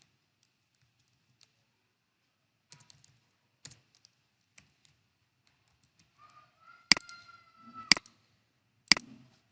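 Scattered, quiet keystrokes on a computer keyboard lead into a few sharp, louder clicks near the end, each isolated with silence between them.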